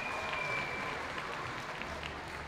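Steady applause from a crowd at a school orchestra festival, dense and continuous throughout, at moderate level with no talking over it.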